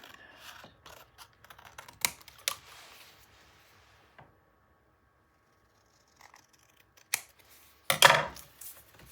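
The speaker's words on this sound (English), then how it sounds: "I'm gonna trim that a little bit more." Scissors trimming paper for a 9 x 9 craft album page, heard as a few crisp, close snips in isolated clusters separated by long quiet gaps, with light handling rustles.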